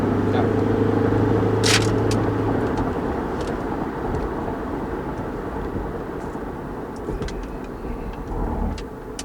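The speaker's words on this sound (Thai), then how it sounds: "ขออนุญาตลองเหยียบหน่อย" A tuned car that has gone sluggish pulls away under pressed throttle, its engine a loud, close, rising drone that holds and then eases slightly, with faint voices underneath.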